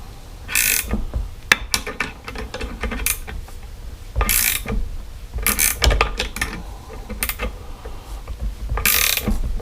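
A wrench is cranked to lift the steering bearing on a 1981 Harley-Davidson FXS Low Rider during a triple tree install, producing close, loud metallic ratcheting clicks in repeated bursts with brief pauses between strokes.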